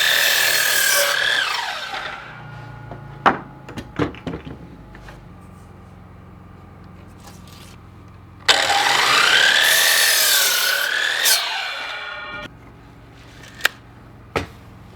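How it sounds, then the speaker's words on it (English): A compound miter saw cuts wood in two bursts, each a loud rising whine as the blade bites through framing lumber, separated by quieter knocks and handling clatter of the workpiece. "The joys of the compound miter."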